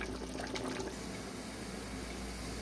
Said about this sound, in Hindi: पानी उबल रहा है